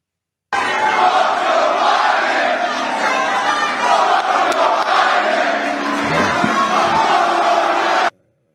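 A large crowd at a Trump rally roars continuously, booing and yelling together in a loud, sustained wall of voices that runs for about eight seconds before cutting off abruptly.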